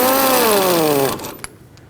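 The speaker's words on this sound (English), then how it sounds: "going to do that a little faster with my power tool." A power tool whirs loudly for about a second, its pitch sliding down as it drives a jam nut onto the tie rod of a 1995-2004 Toyota Tacoma steering rack, then stops with a faint click.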